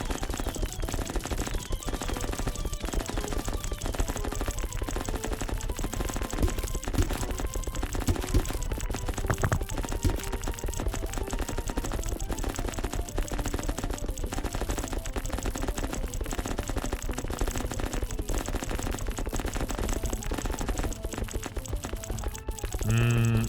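Gatling guns and rockets firing in a video game, a relentless rapid rattling barrage of shots that stays loud and dense for the whole stretch, with brief whooshing bursts and no talking.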